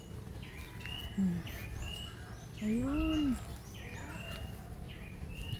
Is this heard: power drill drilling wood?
no